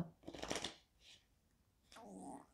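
A deck of tarot cards is cut and handled, giving two short papery bursts of card noise close by, with a quiet pause between them and no speech.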